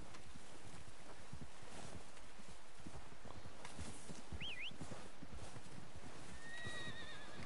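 Steady clip-clop of horse hooves in Red Dead video game over a rustling background, with a brief horse whinny partway through and high chirps near the end.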